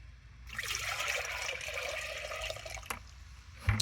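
Liquid organic fertilizer trickles and splashes steadily as it is poured from a bucket onto pepper and tomato plants, a continuous close watery pour with a brief louder splash near the end.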